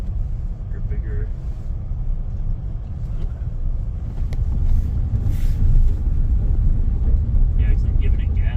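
A Tesla Cybertruck accelerating across the Bonneville Salt Flats, a steady low rumble of road and drive noise that swells louder midway, heard from inside the cab with people talking over it.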